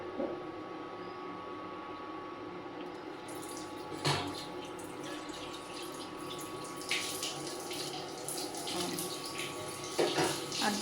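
Water runs steadily from a tap, splashing into a vessel with occasional louder gushes and clatter, fairly close, no speech.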